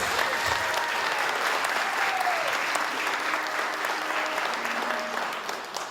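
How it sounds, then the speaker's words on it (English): A school athletic hall of fame induction audience gives sustained, dense applause in a hall, holding steady for several seconds and then tapering slightly at the end. "Another round of applause for Zach."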